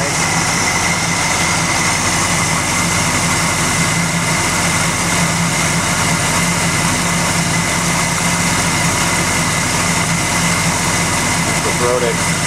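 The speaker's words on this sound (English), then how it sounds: "it's just a really smooth running motor, very high-end professional rebuild" A rebuilt 1965 Chevy Impala V8 with Edelbrock Performer RPM aluminum cylinder heads idles in a steady, smooth, loud drone that holds unchanged from start to finish, with a voice talking over it.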